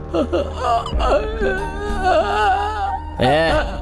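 A man imitates a dog's whimpering with high, wavering whines and short yelps in quick succession, close and fairly loud.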